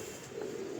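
Pigeons in a rooftop loft give a brief, faint, low cooing call, soft and close against quiet surroundings.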